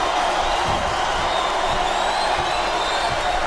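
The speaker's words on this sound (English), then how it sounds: "I think these superstars are getting some feedback from the crowd, JR." A video game arena crowd at a WWE SmackDown vs Raw 2008 wrestling match gives a constant wash of cheering and whooping, broad and steady throughout, with a faint voice under the roar.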